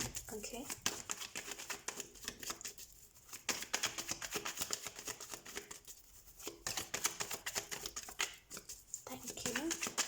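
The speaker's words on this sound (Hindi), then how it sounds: "सबसे पहले हम कार्ड शफल कर लेते हैं।" Tarot cards are shuffled by hand close up, with rapid, repeated riffling and flicking bursts separated by brief pauses, and no talk.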